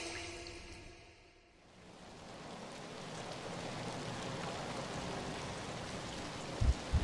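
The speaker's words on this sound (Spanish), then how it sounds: "La primera gota de lluvia cayó, y de inmediato se convirtió en un aguacero violento." Rain builds into a violent downpour, starting from a faint patter that swells within two seconds into a dense, steady roar of heavy rainfall, with a couple of low thumps near the end.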